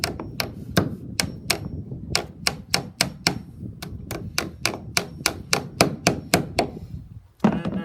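Steady series of sharp hammer blows during a dock rebuild, roughly three per second, struck close by with a low room rumble underneath.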